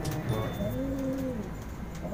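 Racing pigeons coo close by during a derby race, low rolling calls that rise and fall over a steady outdoor background.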